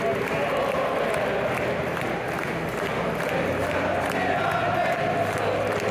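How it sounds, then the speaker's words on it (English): Coventry fans at the CBS stadium before a football match: a dense, steady roar of crowd noise with cheering and chanting voices blending together, continuous and fairly distant throughout. "Have a little sing-song, a little cheer before the game gets going."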